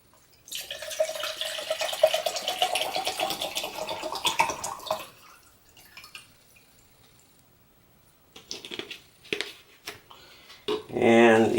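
Water, two cups of it, is poured into a beer-can cook pot for a backpacking stove, with a steady splashing stream for several seconds, then scattered drips and handling sounds.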